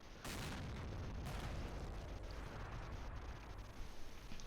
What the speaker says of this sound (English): There goes some Harrier 25mm cannon.